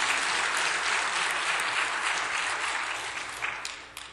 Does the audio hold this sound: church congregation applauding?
yes